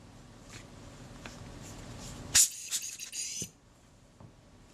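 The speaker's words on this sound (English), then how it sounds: "So I've blown that lens off, any dust that was on it is gone." Short, close puffs of air from a hand blower clearing dust off the lens of a Kodak Retina IIa camera during a service, one sharp burst followed by a few quicker hisses against a quiet workbench.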